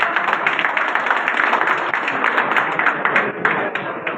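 Applause from an audience at a district party officials' introduction meeting in Chengalpattu, a steady sustained wash of many hands clapping, fairly close and uninterrupted throughout.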